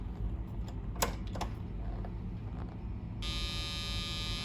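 Soft clicks and rattles over a low electrical hum as an Olivetti M computer powers on, then a sustained electronic beep starts near the end and holds steadily.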